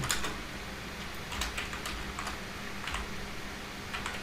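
Typing on a computer keyboard in Google Docs: soft, quick key clicks in uneven bursts, close, with a faint background hum and no voices.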